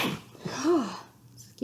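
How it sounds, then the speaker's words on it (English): A single sneeze brought on by allergies, with a sharp gasping intake followed by a loud, close burst, then brief quiet before a voice resumes. "Oh, I'm going to sneeze."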